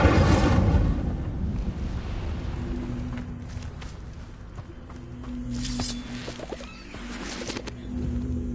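Incendio fire spell cast in the video game Hogwarts Legacy, a dense roaring whoosh of flame with rumbling low end that swells and stays loud for several seconds, no speech over it.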